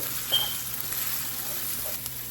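Steady, crackling sizzle of food frying in a hot pan while making chicken devil, with a faint clink of a utensil.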